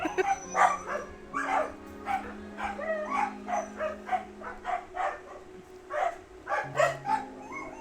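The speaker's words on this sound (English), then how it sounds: "my doggo went woof woof" A pet dog barks in a quick run of sharp woofs, close and fairly loud, over soft steady background music.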